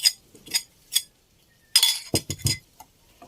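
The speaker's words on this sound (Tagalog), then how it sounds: "Mix na po natin ang ating guyabano." A spoon clinks and scrapes against a bowl while guyabano ice cream mixture is stirred, several bright taps early, a pause, then a louder cluster of clatters.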